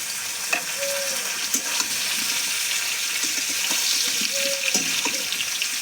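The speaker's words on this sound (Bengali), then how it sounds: "এবার আমি এঁচোড় আর আলু দিয়ে ভালো করে ভেজে নেবো পেঁয়াজের সঙ্গে" Jackfruit and potato frying with onion in a pan for a Bengali curry, a steady close sizzle with occasional stirring scrapes and clinks throughout, no talking.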